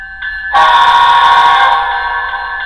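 A steady electronic tone sounds, then a loud multi-note train horn from a model train sound decoder blasts in and holds for about two seconds before easing back.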